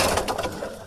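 Pigeons give a brief, soft, throaty coo close by, lasting under a second with no voices over it.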